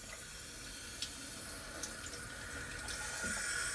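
Water running steadily from the tap of a newly installed K8 machine, a continuous splashing hiss with a few faint clicks and drips; no talking.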